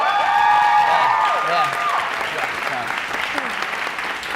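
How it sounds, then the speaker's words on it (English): Audience applause and cheering for the winner of a record-label contest, a steady loud roar of clapping with whoops, while voices and sustained tones ring out over it. "Can we get a round of applause for her one more time?"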